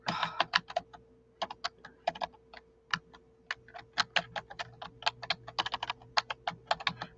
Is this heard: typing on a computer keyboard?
yes